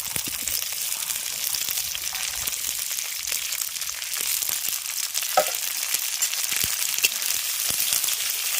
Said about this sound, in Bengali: এবার সমস্ত সবজিগুলোকে আমি ভেজে নেব